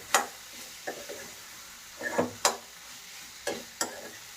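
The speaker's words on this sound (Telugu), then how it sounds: "దీన్ని హై ఫ్లేమ్లో పెట్టుకొని ఒక 5 minutes కలుపుకుందాం." Prawns fry on high flame while a utensil stirs them, giving sharp scraping clacks at irregular intervals over a low, quiet sizzle, close by.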